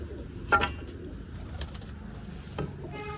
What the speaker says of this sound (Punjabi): ਪਹਿਲਾਂ ਪਾ ਦਈਏ ਕਬੂਤਰਾਂ ਨੂੰ ਦਾਣੇ ਕਬੂਤਰ ਦਾਣੇ ਖਾਈ ਜਾਉਂਗੇ